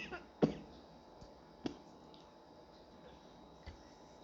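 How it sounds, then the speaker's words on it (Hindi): A single sharp cough near the start, then a softer throat sound, in a quiet room during a Hindi spiritual discourse on Das Lakshan Dharma; nobody talks. "जरा खांसी आ गई थी"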